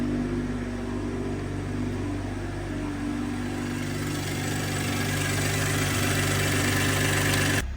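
A G42 car engine idles steadily after a downpipe install, giving a close, even, low hum with a constant tone and no talking.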